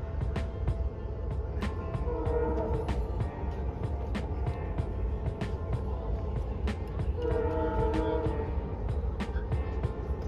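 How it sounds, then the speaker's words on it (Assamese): A continuous rumbling clatter of a train passing near Bogibeel, Dibrugarh, Assam, with rhythmic clacks, and brief squealing tones rising twice over the roar. "আপোনালোকে ট্ৰেইনৰ শব্দ শুনি আছে।"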